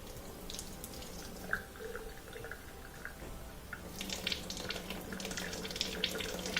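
Water flows weakly through the drain of a Kenmore portable dishwasher, a thin steady trickle with faint splashing and drips, gently rising in intensity toward the end, close and fairly quiet.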